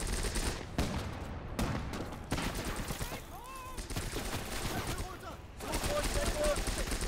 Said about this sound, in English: Taking lots of fire here.